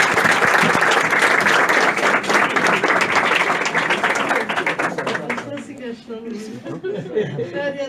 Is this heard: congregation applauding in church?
yes